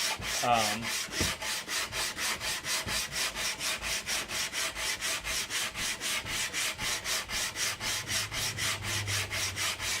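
A flame maple guitar neck is shaped by hand, with a tool rasping across the wood in steady, rhythmic back-and-forth passes. Each stroke is distinct and close, regular for about ten seconds, with no talking.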